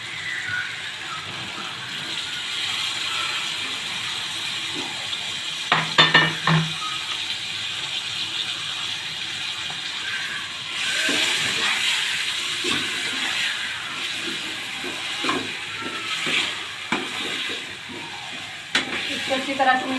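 Boiled, ground spinach paste is stirred into potato-tomato sabzi frying in a pan, giving a steady sizzle under repeated scraping and stirring, with a few sharper knocks of the spoon along the way.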